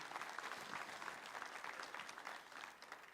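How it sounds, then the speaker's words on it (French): Steady applause from an audience at a French-language spiritual talk, a dense, even wash of clapping that fills the whole stretch at a fairly low, distant level. "Applaudis ça avec moi."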